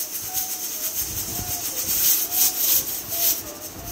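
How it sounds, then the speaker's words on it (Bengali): A pressure cooker whistles and hisses with steam while chicken soup cooks in it, giving repeated bright bursts over a steady hiss at close range. "তারপর এখানে প্রেসার কুকারে সিটি হতে থাক।"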